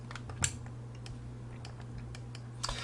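A computer mouse clicks sharply and close in a quiet room while selecting in SketchUp, a few scattered clicks with a quick cluster near the end.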